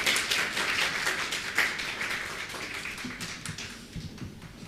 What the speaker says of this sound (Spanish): vamos a recibir con gran aplauso Evangelista Esteban Cho